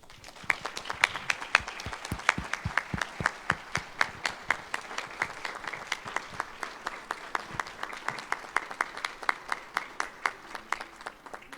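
A small audience at a poetry gathering applauds a poet, with sparse, distinct handclaps in a steady, fairly even rhythm, moderately close and clear, continuing for about ten seconds without voices.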